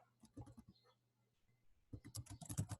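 Someone types text on a computer keyboard, tapping out a short burst of quiet key clicks, then pausing before a faster, louder flurry of keystrokes near the end.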